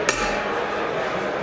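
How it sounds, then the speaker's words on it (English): A hammer strikes a steel feather stamp once, a single sharp metallic tap near the start, and then a steady low background hiss fills the rest of the moment. "it's really just laying the hammer on there and hammering it"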